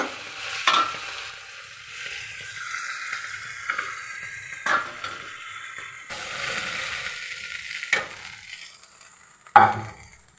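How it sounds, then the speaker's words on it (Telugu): Fried ingredients are stirred together in a pan off the heat, with a few sharp scraping and clanking strokes of a spoon against metal over a faint background, nearby and without speech. "ఇలా వేగిపోయిన తర్వాత దీన్ని స్టవ్ కట్టేసుకుని దీన్ని ఇందులోకి తిరిగేసేద్దాం."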